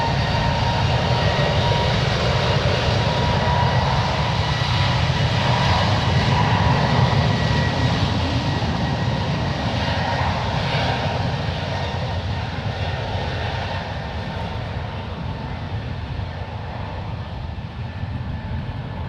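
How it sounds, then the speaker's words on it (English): An Alaska Airlines Airbus A321neo takes off at San Francisco, its steady, powerful engine roar holding for the full stretch and easing only slightly toward the end. "Those are the sounds of an Airbus A321neo with Alaska Airlines."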